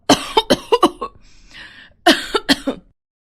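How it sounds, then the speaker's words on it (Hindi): A woman coughs in two loud, close bursts of rapid hacking, separated by a brief wheezy breath. "बिस्तर पर लेटी सुनीता खांसने लगती है।"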